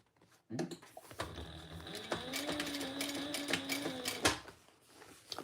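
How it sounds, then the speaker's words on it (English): Sewing machine top stitching a side panel, a quick even run of needle clatter with motor whine that starts abruptly, holds for a few seconds and stops, close and moderately loud. "Turn that over and we'll top stitch on the side panel"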